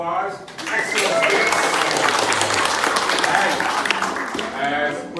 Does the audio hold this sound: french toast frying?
no